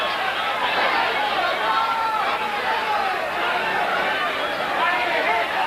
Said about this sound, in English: crowd outdoors here in Laredo.